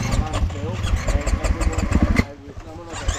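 A 450cc four-stroke enduro motorcycle engine on a ride in Pennsylvania, its loud, rough rumble pulsing unevenly up close, with voices mixed in; the engine eases off near the end.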